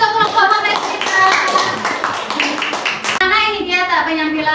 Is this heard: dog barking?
no